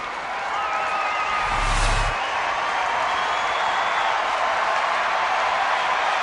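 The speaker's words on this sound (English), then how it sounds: "And now the crowd gets into it again." Baseball stadium crowd at a Texas Rangers game cheering and applauding in a broad, steady roar that swells briefly near the start, with a faint whistle over it.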